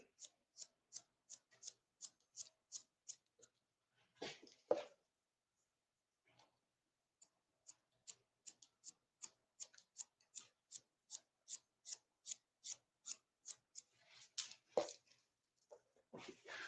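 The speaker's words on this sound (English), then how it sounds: "Just point cut into it." Scissors point cutting hair in a barbering session, a quick series of crisp close snips in regular runs, paused briefly by a couple of louder rustling handling noises.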